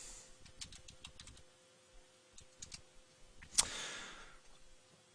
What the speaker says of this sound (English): we type enable and hit return